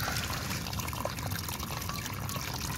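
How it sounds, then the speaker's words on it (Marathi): Water flows out through a hole in the earthen bund of a Konkan village paddy field, making a soft, steady trickling and gurgling that runs continuously at low volume. "इथून डायरेक्ट पाणी बाहेर निघतो इकडे खालती तोंडामध्ये."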